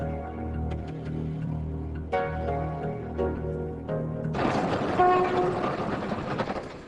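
Freight train hauling metal from factories toward the port of Dudinka, with steady wheel rumble and clatter, a few sharp horn blasts, then a louder, broadband roar of cars rolling close by.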